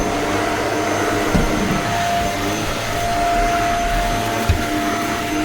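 A Shark purple stick vacuum cleaner runs continuously at close range, a loud steady whine and rushing airflow with a couple of brief bumps, and no voices.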